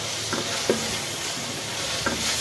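Whole spices, onion and bay leaf frying in oil for pulao, with a steady broadband sizzle and a few soft scrapes of stirring, close and continuous.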